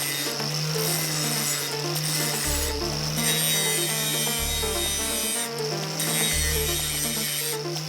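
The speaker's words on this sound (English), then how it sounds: "I can grind this rebar on the side of the disc or on its cutting edge." An angle grinder grinds rebar resting on a grinder support, with the disc side or cutting edge against the bar. A loud, steady grinding whine runs throughout, with deep periodic surges as the metal is pressed in.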